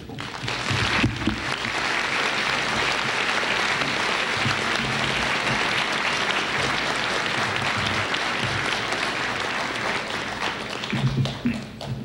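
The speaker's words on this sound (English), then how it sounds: "By our applause, we've already thanked you" Sustained applause from an audience at the close of a panel discussion on Middle East peace, a dense, steady clatter of clapping that holds for the whole stretch and swells briefly near the end.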